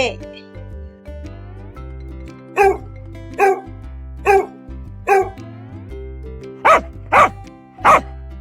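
A cartoon dog in a kids' animation barks about seven times in short, sharp yaps, some in quick pairs, over a steady musical backing.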